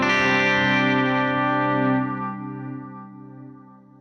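Warm analog-style delay preset with a touch of reverb on a sustained guitar chord, the distorted tone ringing out and slowly decaying into repeating echoes over four seconds.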